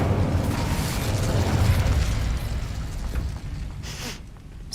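The Incendio fire spell is cast in the video game Hogwarts Legacy. It is a loud whooshing burst of flame that roars for a couple of seconds, then fades into crackling and a few light pops.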